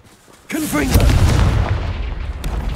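A Confringo fire spell goes off in Hogwarts Legacy as a sudden loud booming burst that keeps rumbling and crackling after it, with a faint voice just before the blast.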